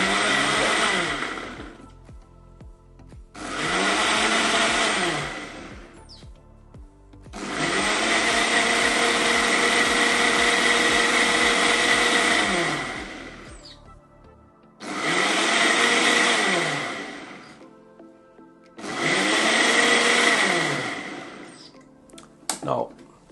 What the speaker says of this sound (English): Turn our blender on.